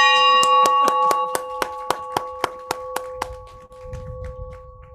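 A bell struck by hand at a town council swearing-in ceremony, about a dozen bright ringing strikes in quick regular succession, each clang decaying into the next, then fading into room noise.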